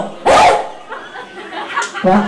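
A child imitates a barking dog for an animal sound game, giving a loud, close woof followed by a second shorter bark, with an adult voice and light laughter around the barks.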